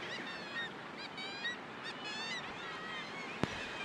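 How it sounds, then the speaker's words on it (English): Gannets call from seabird breeding cliffs in a dense, distant chorus of harsh repeated honking cries, fairly quiet and continuous, with one sharp click near the end. "it's mostly just kind of gannets out on the cliffs"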